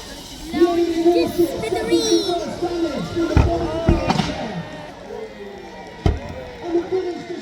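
Model warship guns fire in a staged naval battle at Peasholm Park, Scarborough: several sharp, loud bangs come at irregular intervals over crowd babble and an announcer's voice.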